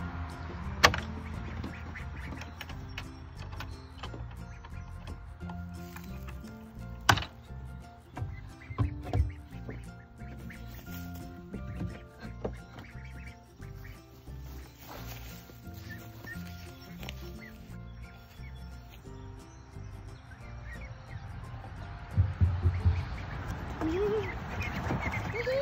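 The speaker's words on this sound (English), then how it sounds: "how to let the ducks out" Ducks quack repeatedly amid a busy, noisy outdoor background, with rustling, thumps and occasional voices mixed in.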